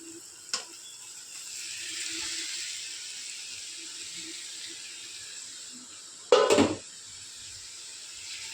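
Chopped tomatoes and green chilies go into frying masala in a wok, bringing a steady close hiss of sizzling oil, a light knock early on and a sharp clattering burst near the end.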